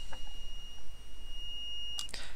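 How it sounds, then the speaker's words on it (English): A multimeter's continuity beeper sounds while a fuse is probed on a PS4 CUH-12xx Blu-ray drive board, giving a steady high electronic tone that ends in a sharp burst near the end, with no talking. "There's hopefully going to be a beep here."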